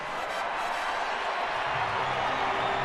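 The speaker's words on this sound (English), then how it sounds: "He should get a nice round of applause" A baseball crowd in a Northern California ballpark applauding pitcher Tim Lincecum as he comes up to bat, a broad steady wash of clapping and crowd noise that holds evenly throughout.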